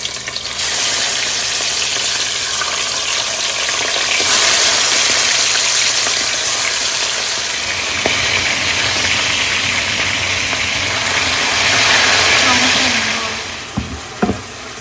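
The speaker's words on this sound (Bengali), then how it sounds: "রূপচাঁদাগুলা ভাজি করে নিই।" Pomfret fish frying in oil, following fried eggplant, make a loud, continuous broadband sizzle that swells and eases, with a few sharp clatters near the end.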